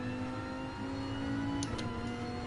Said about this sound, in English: F2 cars are fun to drive.